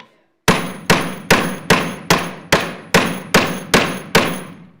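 Nail being driven with a hammer: ten sharp, evenly spaced blows about half a second apart, each a loud close strike ringing briefly before the next, with no talk over them.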